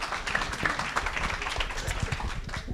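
An audience at an evening presentation event applauds a quiz winner, a steady patter of many hands clapping at moderate distance with no speech.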